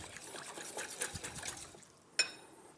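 A ladle of stock trickles and splashes into a bowl of chicken marinade for bang bang chicken, a soft close pour of about two seconds ending in a sharp clink of the ladle.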